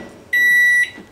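A microwave oven that has just heated chicken nuggets lets out one clear electronic beep lasting about half a second, loud and close against a quiet room.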